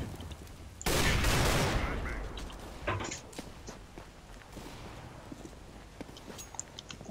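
Gunfire in the video game Counter-Strike: Global Offensive: a loud, sudden burst of shots fades out, followed by scattered sharper cracks and footstep-like taps.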